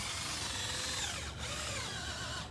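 Power drill cutting a core sample through the layered roofing of a flat commercial roof down to the wood decking, heard as a continuous grinding whir that stays steady and fairly faint, with a slight dip partway through.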